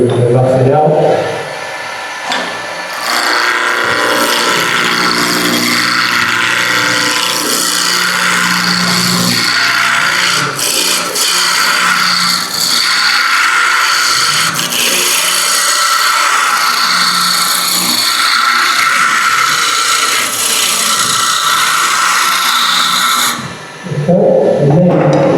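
A power tool rasps and grinds steadily against wood while roughing out a workpiece, loud and continuous for most of the stretch with a quieter start and end.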